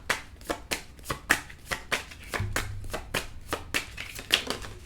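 Tarot cards are shuffled by hand in a steady series of crisp riffles, about a dozen evenly spaced bursts, close and clear with no talk.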